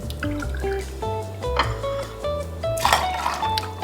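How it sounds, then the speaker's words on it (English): Cranberry juice poured into a cocktail measure for a martini, heard as quick liquid drips and a short trickling fill over a few seconds, close and fairly clear. "And we need 2 ounces, 2 ounces of cranberry juice."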